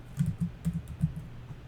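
Keystrokes on a computer keyboard while entering a currency code into accounting software: a short, quiet burst of about half a dozen soft, irregularly spaced taps.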